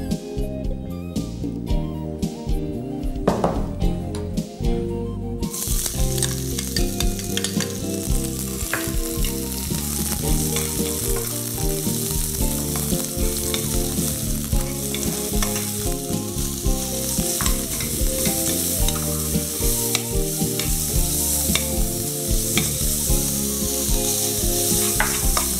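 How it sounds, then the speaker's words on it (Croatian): Grated celery root and carrot with diced onion and pepper sizzle loudly and continuously in a pan of olive and regular oil, a dense, unbroken frying crackle with no talking. "Oboje ćemo sada popržiti na mješavini maslinovog i običnog ulja."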